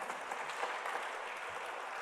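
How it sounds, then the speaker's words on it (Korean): Steady audience applause filling a large prayer meeting at Osanri prayer retreat, continuous and even throughout, with no talk over it. "이때 박수 한번 쳐줘야 되는 거 아닌가요?"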